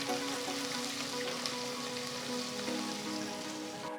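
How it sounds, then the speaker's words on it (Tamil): Finely chopped ginger and green chillies sauté in a pan, giving a soft, steady sizzle and light crackle that stays faint and even throughout, with no talk. "அடுத்து ஒரு பெரிய துண்டு இஞ்சி பொடியாக நறுக்கினது, 3 பச்சை மிளகாய் நறுக்கினது சேர்த்து வதக்குங்க."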